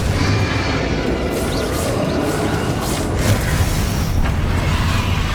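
Repeated Bombarda and Confringo spell blasts in the Hogwarts Legacy video game, final repository fight, sounding as a dense, continuous stream of booming explosions and bursts with no pauses.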